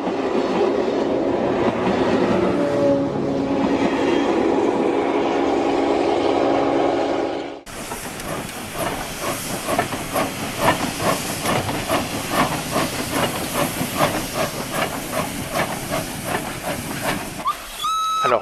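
Steam locomotive class 141F hauling a local passenger train past the end of a station platform, a loud hiss of steam followed by rapid rhythmic clickety-clack of wheels over rail joints as the carriages roll by close up.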